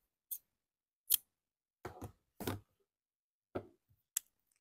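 Scissors snip crochet yarn in a series of sharp, close clicks, about six separate cuts spaced irregularly over a few seconds against silence.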